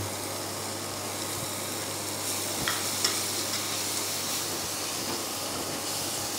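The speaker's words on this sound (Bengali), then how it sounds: "বাটারটা গরম হয়ে গেছে এ দিয়ে দেবো রসুন কুচি" Chopped garlic sizzles in hot butter with a continuous, even frying hiss, broken by a few soft clicks of stirring, close by and free of talk.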